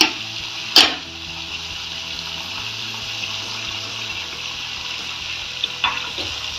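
Potatoes tempered with spices sizzle in a pan for a fasting dish, a loud continuous frying hiss close up, with a sharp clatter near the start and a lighter knock near the end, no voices.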